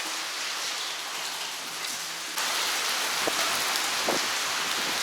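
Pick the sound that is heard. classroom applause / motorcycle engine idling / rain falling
rain falling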